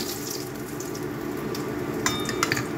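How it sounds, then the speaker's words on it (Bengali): Whole spices and garam masala sizzle in hot oil in a pan on a gas stove, a steady close hiss with a few brief clinks of stirring near the end. "ফ্রাই করো, আর একটু ফ্রাই করো।"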